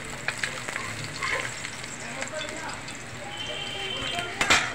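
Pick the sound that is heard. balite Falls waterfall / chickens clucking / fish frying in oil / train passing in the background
fish frying in oil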